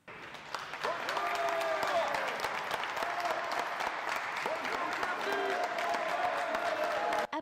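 Applause and cheering welcome customers at the reopening of an open-air casino in La Ciotat, with sustained crowd clapping throughout and some voices mixed in.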